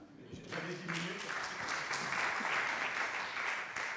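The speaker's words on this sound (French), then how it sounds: "Rien que pour ça mérite des applaudissements." A room of people breaks into applause, starting abruptly after a brief voice and continuing as steady, dense clapping throughout.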